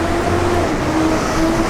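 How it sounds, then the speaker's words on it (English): A loud heavy vehicle rumbles past on a busy road near a university wellness center, a steady low drone with a tonal hum that fills the whole short stretch. "Very loud truck coming by."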